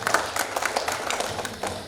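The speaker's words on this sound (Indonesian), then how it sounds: "Tepuk tangannya," Audience applause at a KOKU OIL Premium leadership meeting, with dense, fairly steady clapping from a crowd, moderately loud and continuous for about two seconds.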